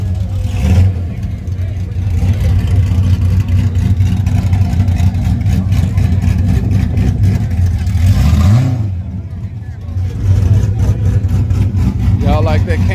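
A drag racing car with an aftermarket cam idles and revs loudly at Yello Belly Dragstrip in Texas, its lumpy, throbbing engine note rising in a couple of blips while people talk nearby.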